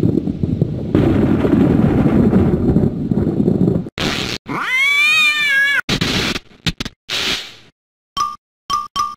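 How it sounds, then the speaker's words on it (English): A cartoon kitten meows in the Living Books game Arthur's Teacher Trouble, a loud, close, rising-and-falling meow that follows a burst of game noise, then brief chimes and clicks. "Kitten."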